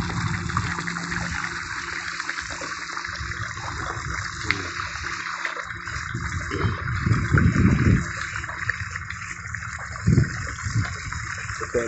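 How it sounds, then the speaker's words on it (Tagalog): Water flows steadily through a sewage treatment plant's aeration line, a constant broadband rush with a few heavier low surges along the way. "Ito ang flow niya sa tubig."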